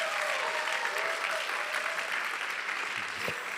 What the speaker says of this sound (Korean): 여러분들 뜨거운 박수와 환호와